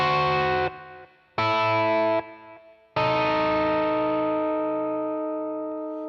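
Electric guitar with distortion and chorus plays a short blues lead lick that passes through the flat fifth: two clipped phrases, then a long sustained note ringing out and slowly fading, close and loud with no talking.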